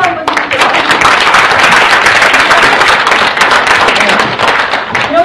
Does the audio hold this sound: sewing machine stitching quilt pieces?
no